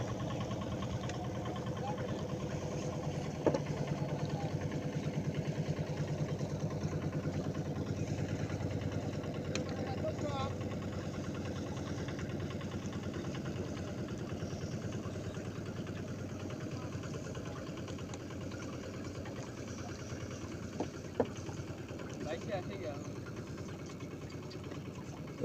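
A motorcycle engine runs steadily at a river landing during hilsa fishing on the Jamuna, a low continuous drone with a few faint knocks, mostly heard alone at moderate distance.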